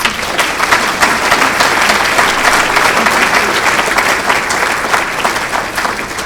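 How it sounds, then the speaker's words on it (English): A luncheon audience at a 2019 Hall of Fame event gives a round of applause for a class of 2013 honoree, dense and loud, sustained evenly from start to finish. "if we could give them a round of applause"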